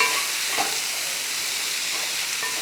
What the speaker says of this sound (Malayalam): ഇതൊന്ന് ഇളക്കി കൊടുത്ത്